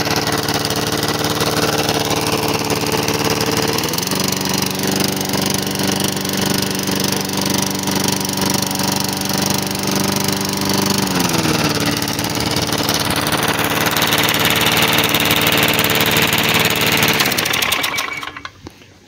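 A vintage Toro walk-behind lawn mower engine runs steadily and loudly close by, with a constant droning hum and a slight shift in pitch partway through before cutting off at the end.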